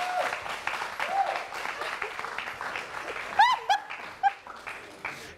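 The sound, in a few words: applause for contestant number 2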